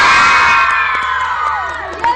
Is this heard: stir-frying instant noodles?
no